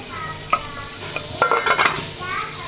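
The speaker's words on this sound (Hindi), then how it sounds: "ये हमने शुरू कर दिया प्याज फ्राई करना।" Onions frying in a cooking pot give a close sizzle, broken by several sharp stirring scrapes and clinks against the pot's metal, heaviest toward the middle, with no voices.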